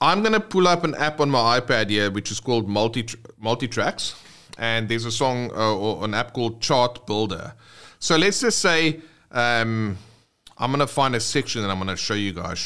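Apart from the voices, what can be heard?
No everyday noises stand out.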